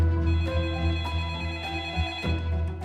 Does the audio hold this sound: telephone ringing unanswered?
yes